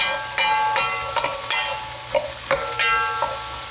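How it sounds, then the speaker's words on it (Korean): Cabbage, mixed vegetables and chicken stir-fried in a pan, with a steady close sizzle and repeated scraping clatters of a utensil against the pan roughly every half second. "이거 볶는 게 일이다"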